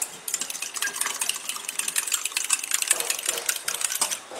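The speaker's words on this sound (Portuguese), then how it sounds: "Vou dissolver o amido de milho." A spoon stirs cornstarch into half a cup of milk to dissolve it, making rapid, continuous clinking and scraping against the cup for several seconds, fairly close and with no talking.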